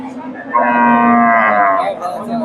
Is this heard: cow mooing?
yes